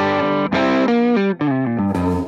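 Distorted electric guitar plays through a Koch amp model on a Line 6 POD Go with all effects bypassed, giving sustained overdriven chords and notes that shift pitch, loud and alone.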